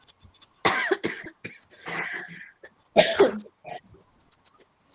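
A woman nearby gives a few short, sharp coughs in bursts separated by quiet gaps, with some faint talking in the background.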